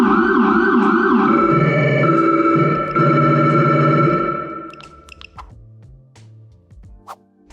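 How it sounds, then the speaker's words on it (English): A Whelen CORE dual siren wails loud and close, with two tones sweeping together. It cuts off after about four seconds, and a few faint clicks and ticks follow. "dual siren"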